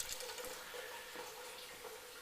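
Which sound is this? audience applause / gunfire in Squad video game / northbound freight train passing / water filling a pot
water filling a pot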